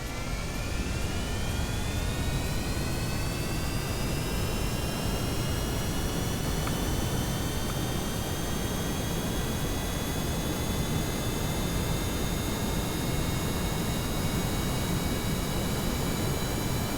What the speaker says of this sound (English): Turbine's spinning the right direction now.